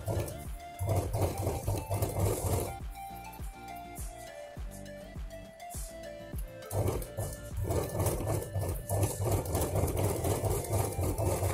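Sewing machine stitching a seam on a ladies' handbag, a steady rapid mechanical chatter running nearly continuously with brief slowdowns and restarts, close and moderately loud.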